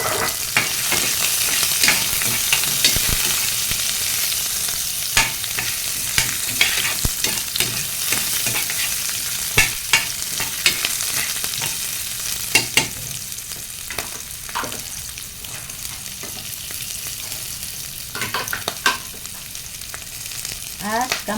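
Chopped onions sautéing in a hot pan, a steady loud sizzle throughout with frequent scraping and clinking strokes of a spoon stirring them.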